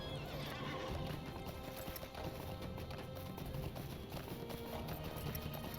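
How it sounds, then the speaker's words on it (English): A horse gallops in the online game Lord of the Rings Online, giving rapid, steady hoofbeats with a whinny mixed in, fairly quiet but continuous throughout. "Let me get on my horse."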